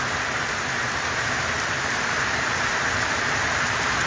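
Heavy rain pours down in Tuvalu, a dense, even hiss of drops on surfaces that stays loud and unbroken throughout.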